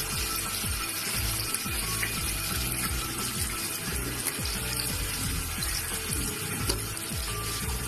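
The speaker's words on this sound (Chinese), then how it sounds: "清洗完之后呢，我们冲水" Hands being rinsed under a running household tap after washing, a steady continuous rush of water splashing close by, filling the whole stretch without pause and with no talk.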